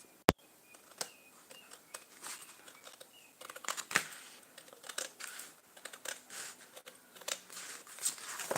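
Scissors trimming out a paper strap along a pen line, with short snips and crinkly paper rustling in an irregular rhythm, close and fairly quiet.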